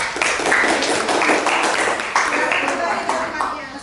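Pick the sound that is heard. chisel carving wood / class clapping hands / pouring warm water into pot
class clapping hands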